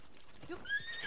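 A horse in Zelda: Breath of the Wild gives a short, bright whinny lasting about a second, heard up close over soft background noise.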